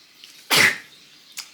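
A single sharp, close sneeze bursts out about half a second in, followed by quiet and a faint short breathy sound near the end.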